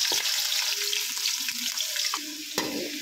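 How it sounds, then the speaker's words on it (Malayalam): Crushed ginger and garlic with chilli sauté in a pan for a Palakkad-style chicken curry, a close crackling fry with scraping stir strokes and a few clanks, steady throughout without speech. "ആ പച്ചമണം പോകുന്ന വരെ ഒന്ന് വഴച്ചെടുക്കുക."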